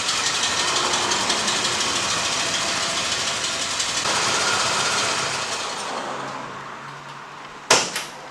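A car engine runs steadily at idle while the vehicle backs up, a continuous close rumble and hiss that gradually fades, ending with a brief sharp knock.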